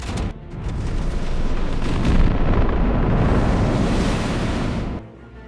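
A sustained heavy roaring blast from a warship firing torpedoes, loud and dense for several seconds before cutting off abruptly, as in a dramatic explosion sound effect.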